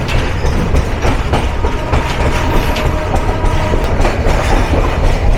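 Nilsagar Express train running on the tracks, a loud, steady rumble with rhythmic clatter of wheels throughout, heard close up from on board with no talking.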